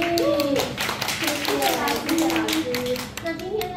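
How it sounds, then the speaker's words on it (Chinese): An audience applauds at the opening of a crocheted tree-cozy flower exhibition in Songshan District, with a steady patter of clapping running throughout and voices and tones sounding over it. "我们再给郭老师一个掌声鼓励。"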